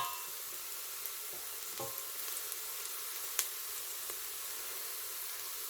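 Onions frying in a pan for keema madras, a steady broad sizzle with a couple of faint stirring taps, close and even, no voices.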